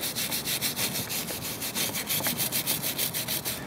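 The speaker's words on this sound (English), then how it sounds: "I'm going to take the wire brush and just everything on here that is metal" A wire brush scrubs a metal brake caliper in quick, regular back-and-forth strokes, a rough, rasping rhythm heard close up with no talking.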